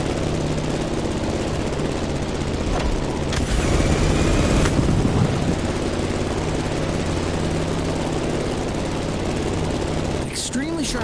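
A propeller plane's engine drones loud and steady in The Crew Motorfest, a dense continuous roar that never drops away, with a brief sharper whine rising near the end.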